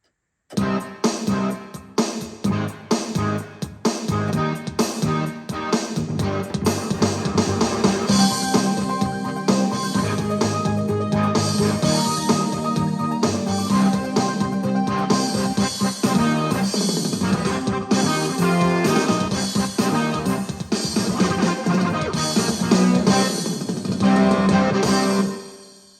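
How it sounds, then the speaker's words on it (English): A dense Casio CTK-691 electronic keyboard plays a continuous series of shifting chords for a long stretch, loud and full, with no voices. "So I'm just going to do a few chord progressions."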